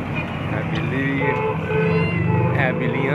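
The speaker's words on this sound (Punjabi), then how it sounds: "ਬਿੱਲੀਆਂ ਤੁਸੀਂ ਵੇਖ ਰਹੇ ਹੋ ਜੀ" Cats meow repeatedly among cages at a bird market in Jalalpur Jattan, Gujrat, Pakistan, with several drawn-out meows over a busy background of murmuring voices and market noise.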